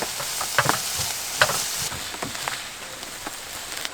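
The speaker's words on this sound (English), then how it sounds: "Stir around for maybe 5 minutes or so till they start to soften up a bit" Chopped vegetables stirred and sizzling in a pan while camping, with a steady close frying hiss and occasional scraping clicks of the stirring utensil, no voices.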